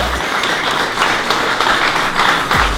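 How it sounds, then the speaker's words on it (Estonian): Steady crowd applause for class winners at a winter orienteering award ceremony, many hands clapping continuously at moderate loudness, with a few sharper claps standing out and no speech. "ja Mossa meestele ja naistele ka kõva aplaus"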